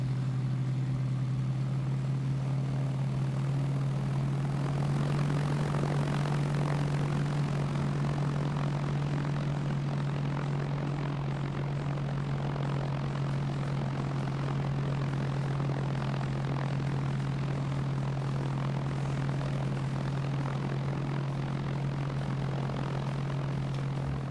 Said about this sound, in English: Alright, planes are away